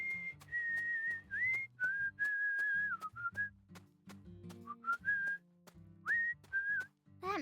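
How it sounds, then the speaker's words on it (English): A character in the video game Deadly Premonition 2 whistles a wandering melody of sustained, sliding notes alone over a soft, low musical backing, with short breaths between phrases. "Ah, I see what he's whistling."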